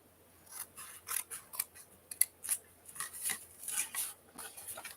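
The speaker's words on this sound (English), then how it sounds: "now what we're going to do is we're going to cut just this little corner off" Scissors snipping a corner off a paper box, a quick run of crisp, close cuts and blade clicks at an irregular pace, fairly quiet with no talk.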